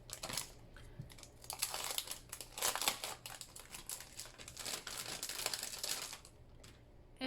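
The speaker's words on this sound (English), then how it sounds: "now what I will do is get the quarter inch tape." Quarter inch tape handled and applied to acetate for a scrapbook page, close, soft crinkling and peeling sounds in irregular bursts, fairly quiet and without talk.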